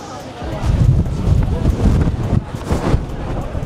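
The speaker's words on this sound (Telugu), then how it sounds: "ఓపెన్ ఉండడం వల్ల గాలి చాలా ఘోరంగా వస్తుంది." Strong wind buffets an open-air rooftop observation deck at Shibuya Sky in Tokyo, a loud, low, gusty rumble across the microphone that swells and dips, with a person talking over it.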